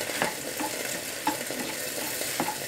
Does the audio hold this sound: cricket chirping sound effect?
no